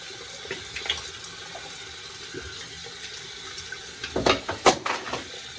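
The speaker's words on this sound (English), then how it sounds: "Cold water rinse off." Cold tap water runs steadily with a soft hiss, then splashes and sloshes more loudly near the end as hands move through the stream while rinsing after a shave.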